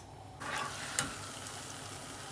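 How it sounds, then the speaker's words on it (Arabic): A pierced tortilla is lowered into hot oil and starts frying, with a sudden rise into a steady, close sizzle and a brief crackle burst near the start. "أنزلها في الزيت"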